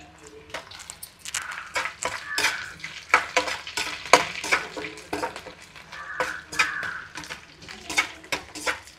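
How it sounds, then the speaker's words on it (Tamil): Green chillies stirred and frying in a pan with onions already browned, a busy sizzle under repeated scraping strokes of a spoon against the pan, close and steady. "வெங்காயம் நல்லா செவந்துட்டு இப்போ பச்சை மிளகா போட்டுருவோம்."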